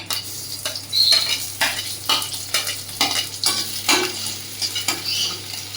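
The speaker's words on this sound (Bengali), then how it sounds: "তেলটা আমার গরম হয়ে গেছে তেলের মধ্যে লঙ্কা কাঁচা লঙ্কা রসুন আর পেঁয়াজটা দিয়ে দিলাম" Green chillies, garlic and onion fry in hot oil in a kadai, a close, crackling sizzle broken by repeated scraping stirs of a spatula against the pan at a steady rhythm.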